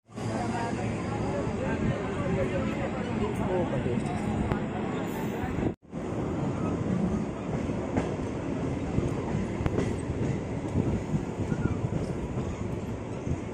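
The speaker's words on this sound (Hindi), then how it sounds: "तो चलिए हमारी ट्रेन खुल चुकी है यहाँ पर से भी।" A local MEMU passenger train from Raghunathpur to Patna rolls along the rails with a steady, loud rumble and rattle that continues throughout, broken by one brief gap, with faint voices of a crowded carriage underneath.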